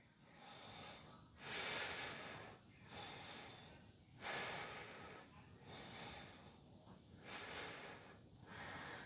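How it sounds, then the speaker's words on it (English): Slow, deep breaths during a yoga flow, each long airy inhale and exhale rising and falling in a steady rhythm, close and soft with no talking. "just breathing here. Taking 3 breaths."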